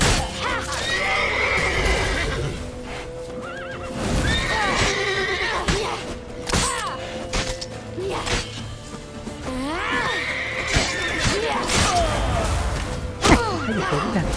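A horse in The Witcher 3 whinnies and neighs loudly several times, long wavering cries over hoof clatter, thuds and game noise, close and prominent.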